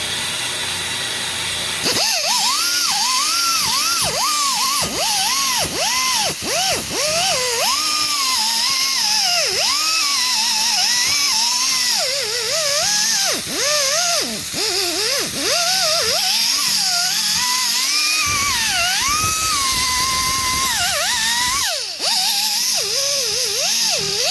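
A rotary wire brush spins against rear brake parts of a 2016 Honda Civic LX, giving a loud, continuous high-pitched whine that rises and dips in pitch as the bristles bite and ease off, with no talk.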